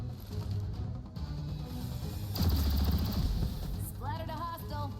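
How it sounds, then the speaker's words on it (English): Gunfire from the XCOM: Chimera Squad video game, a dense burst of rapid shots in the middle over a steady game soundscape, with a brief electronic chirping effect near the end. "Let's pop over here and commence shooting."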